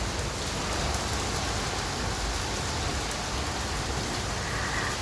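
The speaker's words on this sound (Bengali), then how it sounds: "জোরে তুফান আসছে, বৃষ্টি দিতেছে।" Heavy rain pouring during a storm, a dense, steady roar of drops on surfaces that stays loud and unbroken from start to finish, with no voices.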